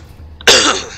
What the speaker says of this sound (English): Excuse me, I have a cough or something.